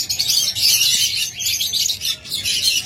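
Locally bred pet birds for sale chirp and tweet in a dense, continuous chorus of bright, overlapping calls, fairly close and with no talking.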